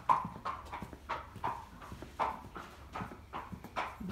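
A tame, gentle horse walks on a hard surface, its hooves striking in an even clip-clop rhythm of about a dozen close, distinct hits.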